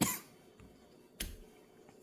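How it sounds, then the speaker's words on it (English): A few short, sharp coughs sound quietly in an otherwise still room, one at the start and another about a second later. "Sorry, had to cough."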